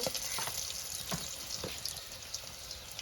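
Onions and green chilies fry in a pan for a Bengali potato, eggplant and Malabar spinach curry, giving a steady, close hiss of sizzling oil with a few soft scrapes throughout.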